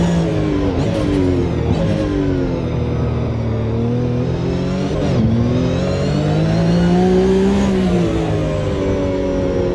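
Porsche 911 Cup race car engine pulling hard down the main straight at the Long Beach Grand Prix, a loud, steady in-car roar with rising and falling revs and brief shift dips, no voices.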